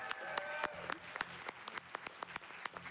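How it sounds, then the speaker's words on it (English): Scattered applause from a small crowd, individual claps distinct and irregular, moderately loud throughout. "Give you a round of applause for that"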